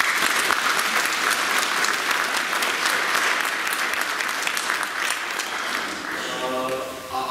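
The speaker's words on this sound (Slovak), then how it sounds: "by som bol rád, keby ste trošku privítali teraz potleskom" An audience claps steadily to welcome folk performers from the Vysoká folklore group at a Christmas event in Podkonice, dense applause that fades slightly toward the end, where a voice begins.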